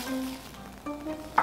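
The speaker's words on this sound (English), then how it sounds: "I left it unattended and now it's boiling" Milk boiling in a pot on a home stove, a faint steady sizzle and bubbling with a brief louder burst near the end, heard close and alone without talk.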